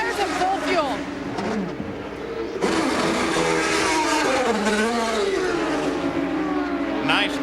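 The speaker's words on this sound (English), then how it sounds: "Tony Kanaan just came in for a pit stop" IndyCar race cars work through pit stops under green at Homestead-Miami Speedway during the 2004 Toyota Indy 300, engines whining and revving in rising and falling sweeps under continuous commentary.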